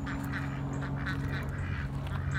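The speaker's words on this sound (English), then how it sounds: "let's see if we can scare these ducks" Ducks and geese honk near the water in a steady, overlapping chorus of calls over a constant background hum, with no talking.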